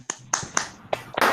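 A handful of separate, uneven hand claps ring out over an online lecture call to thank the speaker, spaced about a third of a second apart, then a denser burst of clapping at the end.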